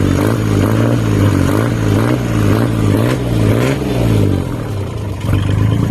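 A tractor engine fitted with a steel header and baffled exhaust pipe runs steadily and revs in slow swells, its exhaust deep, soft and muffled, loud and close throughout with no voices.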